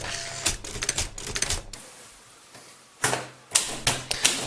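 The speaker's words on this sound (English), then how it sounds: "This is the typewriter printer, or type printer, or whatever that I've created." An old typewriter converted into a printer types out bursts of rapid mechanical key strikes, close and loud, pausing briefly in the middle before the clattering strikes resume.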